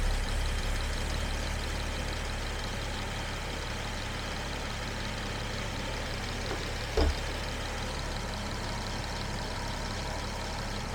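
A Jaguar XJ6 engine, newly fitted and running hot, idles steadily at close range with a low continuous rumble and even drone, one brief knock partway through.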